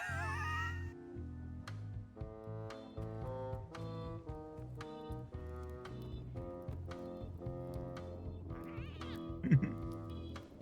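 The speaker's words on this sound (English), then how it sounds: "Always attempt to pet the cat." A cat meows in Return to Monkey Island, the call sitting over steady game music with repeated notes and a brief rising squeal near the end; no talk.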